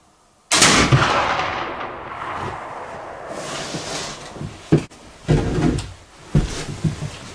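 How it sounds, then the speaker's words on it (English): A black powder gunshot from a 90-grain Goex charge, one sharp loud blast with a long rolling echo, followed by a few knocks and handling sounds. "Second shot with 90 grain."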